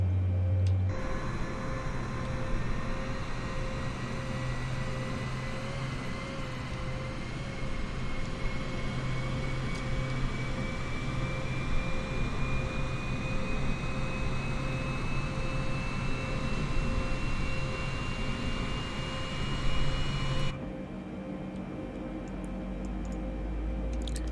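A Boeing 787-9 jet engine spools up during start in Microsoft Flight Simulator, a steady loud whine whose pitch climbs slowly over about twenty seconds before the sound cuts back.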